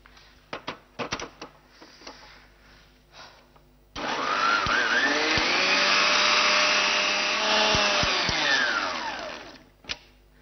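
A kitchen blender whirs orange juice for sangrita, starting abruptly after a few light clinks and taps, running as a steady close whine for about six seconds, then winding down, followed by a final tap.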